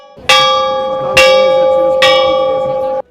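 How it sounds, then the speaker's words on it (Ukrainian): Three loud, close church bell strikes ring out about a second apart during a street protest, each tone lingering and overlapping the next. "почали дзвонити у церковні дзвони."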